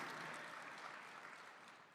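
Steady, dense applause from a conference audience at a Bitcoin event, a continuous wash of many hands clapping at moderate distance, fading slightly toward the end with no talk over it.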